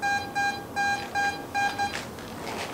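A Garrett AT MAX metal detector sounds its target tone over a high-reading find: five short, steady, fairly loud beeps in an even rhythm, followed by a brief soft rustle.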